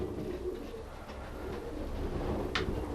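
Soft pigeon cooing in a breeding loft over a constant low rumble of background noise, faint and continuous, with one brief higher chirp near the end.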